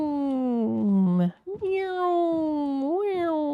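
Drawn-out, wavering meows linked to a cat in Minecraft, two long cries separated by a short break, close and clear; they sound like a human voice imitating a cat.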